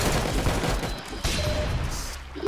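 Rapid bursts of gunfire from the Roblox shooter game Arsenal, a dense fusillade of shots rattling in quick succession with a brief gap in the middle.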